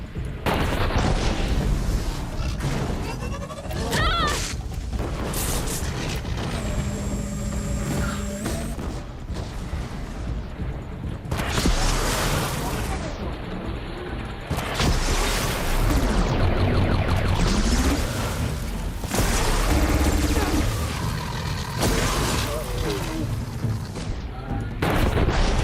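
Cannon fire in the video game Horizon Zero Dawn Remastered, heavy booming blasts and explosive bursts recurring through a loud, chaotic battle soundscape with rumbling impacts and some sustained tones between shots.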